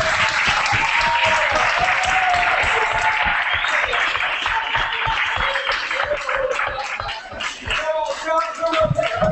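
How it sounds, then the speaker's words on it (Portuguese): A seated audience applauds at a panel session of an event linked to the 2013 World Social Forum in São Paulo, with dense, sustained clapping that thins out and fades near the end. "uma salva de palmas para todos"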